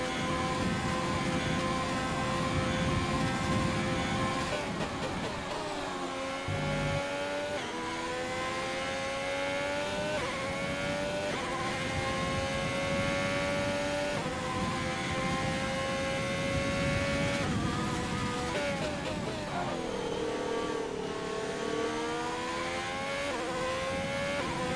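F1 race car in the video game F1 2020, a high-pitched engine whine that repeatedly climbs through the gears with short drops at each shift, loud and close throughout, no talk.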